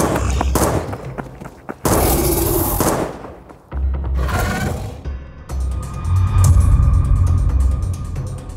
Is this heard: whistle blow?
no